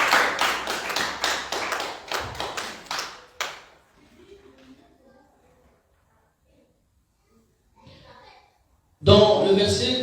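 A church congregation breaks into loud applause, a dense run of claps that fades over a few seconds into near silence before another burst of clapping starts.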